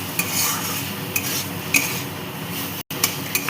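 Poppy seeds being stirred into red amaranth greens in a pan, a continuous soft sizzle with repeated scraping and clinks of a spoon against the pan, one brief gap near the end.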